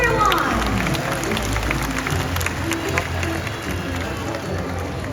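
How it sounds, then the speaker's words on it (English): Audience applause and crowd noise fill a bird show at Bird Paradise in Singapore, a steady wash of clapping with some cheering that holds for several seconds, close and fairly loud. "Let's give them a round of applause, everyone."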